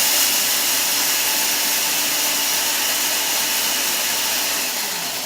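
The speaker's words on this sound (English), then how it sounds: "And I'm going to put it in my lovely blender here." A loud, steady mechanical whir of a blender motor grinding oats into flour, running continuously with broadband noise without pause and easing slightly at the end.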